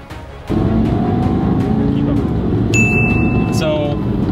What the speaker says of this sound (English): so let's hop in the cars and get going.